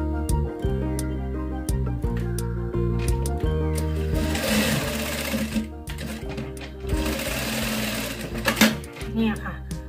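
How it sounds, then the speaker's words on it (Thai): A sewing machine runs in rapid rattling bursts while stitching a garment lining at the collar and sleeve, stopping and starting with short pauses, as someone talks over it. "เย็บอีกข้างหนึ่งอ่ะ"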